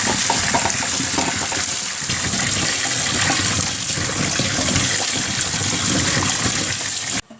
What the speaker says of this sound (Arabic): انتي بتغسليه كويس اوي تحت المية